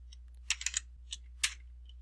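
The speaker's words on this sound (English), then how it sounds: "then I'm going to type in 1" A handful of quiet, close computer keyboard keystrokes while entering a formula into an Excel spreadsheet, landing in small irregular clusters over a low steady hum.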